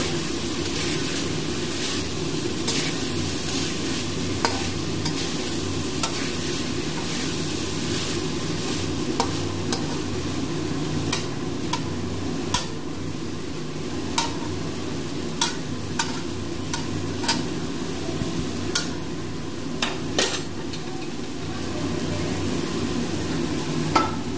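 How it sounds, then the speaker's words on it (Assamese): Chicken pieces frying with banana flower in hot oil are stirred in a pan, making a loud, continuous sizzle with repeated scraping and clinking from the stirring utensil. No one speaks. "এতিয়া এবাৰ লৰাই দিওঁ ভালদৰে"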